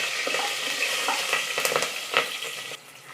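Slit green chillies fry in ghee for a shallot biryani, a busy crackling sizzle with scraping stirs and sharp pops, loud and close throughout before easing near the end.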